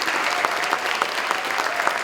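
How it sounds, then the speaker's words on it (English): Audience applause at a school instrumental music concert, dense continuous clapping from a crowd filling the room, loud and steady without talk. "can we have a huge round of applause for the MSA Foundation"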